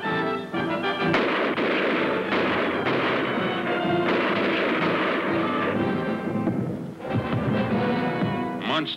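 Cartoon gunfire from a 1966 Lone Ranger animated adventure: a long, dense barrage of booming shots and blasts with a musical score underneath, loud and continuous for the whole stretch.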